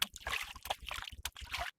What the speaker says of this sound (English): it's the sound of basically playing with water